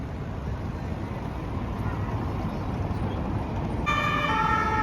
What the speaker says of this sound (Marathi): इकडे ना कंटिन्यू पोलिसांच्या गाड्या चालू असतात आणि इतक्या जोरात जातात फास्ट